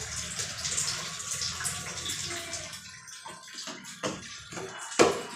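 Water is drawn and poured into a container, a steady rushing flow followed by a few louder splashes and sloshes near the end, close by with no talk.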